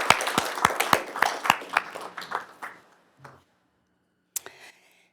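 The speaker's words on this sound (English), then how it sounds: "if we could all give our students and staff a round of applause for their dedication and hard work" Applause at a school board meeting for students and staff, a short burst of a few hands clapping that thins out and stops, followed by a brief faint rustle and a small late clatter.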